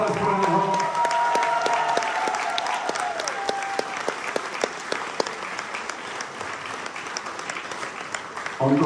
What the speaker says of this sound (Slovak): tak ešte jeden veľký potlesk pre neho